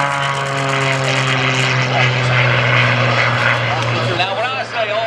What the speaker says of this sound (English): ultimate aerobatic airplane, all carbon fiber aircraft, powered by an IO540 line combination, cranking about 350 horsepower